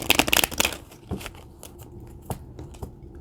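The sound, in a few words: shuffling Kipper cards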